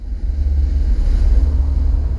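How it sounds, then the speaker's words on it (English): A Bertram 35 boat runs over rough sea at speed, giving a loud, low, churning rush of hull slap, spray and wind buffeting the microphone, continuous with no gaps. "The boat passes over the waves and the spray is sent far away."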